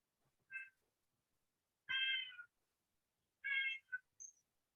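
A domestic cat meows three short times, followed by a brief chirp, all quiet and close against an otherwise silent background.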